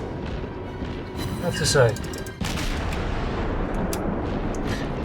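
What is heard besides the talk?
ship guns firing in the video game World of Warships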